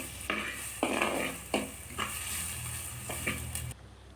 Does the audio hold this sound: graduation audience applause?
no